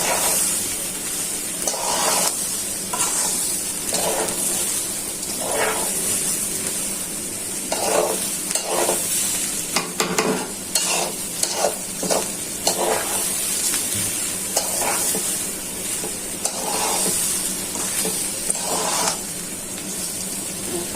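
Spices and polao rice fry and get stirred in a pan for bhuna khichuri. A loud, continuous sizzle is broken by repeated scraping strokes of the stirring spoon at close range.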